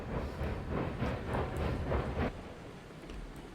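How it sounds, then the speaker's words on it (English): A train runs along the tracks in the video game RailRoads Online, a close, rolling rumble with rhythmic surges that fades to a softer hum partway through. "Nothing like crashing train on its maiden voyage."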